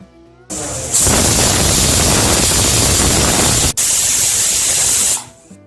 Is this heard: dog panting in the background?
no